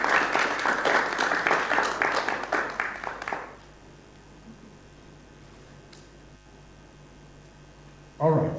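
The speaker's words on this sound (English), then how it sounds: "I thought you would give a clap of praise to that." An audience at an annual general meeting claps briskly for about three seconds, then the applause stops abruptly, leaving a quiet room with faint hum and a short burst of noise at the very end.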